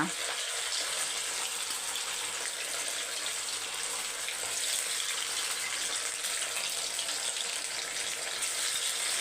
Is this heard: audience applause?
no